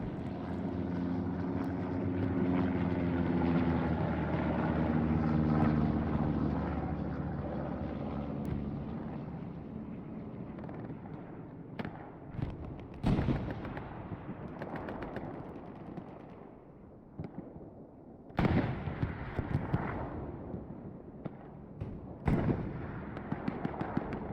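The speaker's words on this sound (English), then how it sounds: "Bombing run." Aircraft drone overhead in Hell Let Loose for several seconds, loud and broad, then gives way to a series of sharp, booming explosions at irregular intervals during a bombing run, with no talking.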